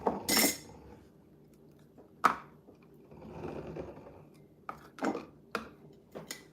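Lid set down at an angle on a container of homemade chicken broth: a few sharp, close clinks and taps spaced out, with faint kitchen rustling between them.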